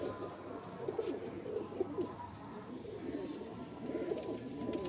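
Faqeer Gul pigeons coo softly and repeatedly in the background, low murmuring calls over a steady hum with no talking.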